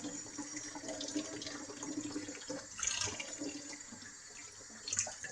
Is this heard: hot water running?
yes